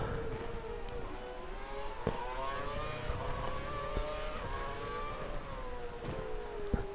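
A Formula 1 Mercedes in a racing video game accelerates hard around the Hungaroring in Budapest, its high engine whine climbing through gears in rising, stepped sweeps, steady and fairly faint, with short sharp clicks scattered through it.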